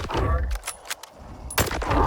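Armor-piercing shells from an underbarrel shotgun in STALKER 2 go off in short bursts, one cluster of shots near the start and another louder pair toward the end, with game noise in between.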